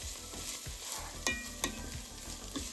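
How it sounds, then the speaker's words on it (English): Garlic sizzles in a pan for chicken and dumplings, a close, even hiss broken by rapid rhythmic scrapes of a stirring utensil and a couple of sharper clinks. "we're only gonna cook this for about a minute now with the garlic in"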